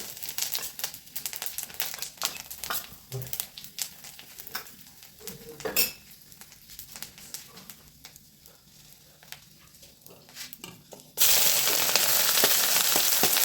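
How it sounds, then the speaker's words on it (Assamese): Onions for a duck curry with ash gourd sizzle and crackle in hot oil in a pan, a steady close frying hiss with clinks of a utensil stirring against the pot, ending in a sudden louder burst of hissing. "পিঁয়াজ গৰম তেলত দিব"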